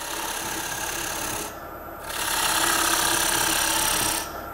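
A woodturning tool cuts into spinning wood on a Coronet Herald lathe, giving a steady close rasping scrape that dips briefly, then returns louder and continues alone without talk.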